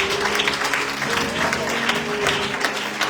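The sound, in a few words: church congregation applauding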